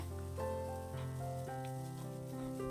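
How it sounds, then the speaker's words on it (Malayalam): Grated coconut roasts and sizzles in a pan, drying out and starting to brown for a dried-prawn chutney; a soft, steady frying hiss runs throughout beneath sustained tonal sounds. "ആ തേങ്ങയുടെ വെള്ളമയൊക്കെ ഒന്ന് വറ്റിയിട്ട് ചെറുതായിട്ടൊന്ന് ബ്രൗൺ ആകാനായിട്ട് തുടങ്ങും അതുവരെ വേണം വറുത്തെടുക്കാനായിട്ട്"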